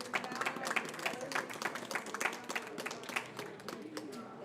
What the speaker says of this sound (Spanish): Y un aplauso a Doris.